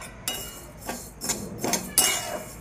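Urad dal being dry-roasted in a pan, a few sharp metallic clinks and scrapes of a spoon against the pan at irregular intervals over a quiet background, with no talk.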